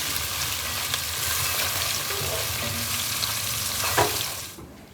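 Food fries in a pan while it is stirred, a dense, continuous sizzle with scraping movement that swells slightly and then fades out at the end.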